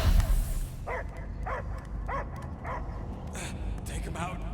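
A dog barks repeatedly in a sci-fi action game, Guardians of the Galaxy, with a steady run of short, evenly spaced barks over a low rumbling background.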